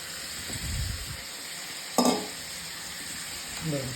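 Moong dal being stirred into a pot of boiling water, heard as soft scraping and bubbling swirls, a sharp clink of a utensil against the pot midway, and another quiet stir near the end.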